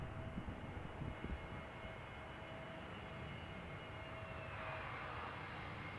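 A distant Airbus Neo airliner's engines rumble and whine steadily at Amsterdam Schiphol Airport, a faint broad roar with a thin high tone, and no talk.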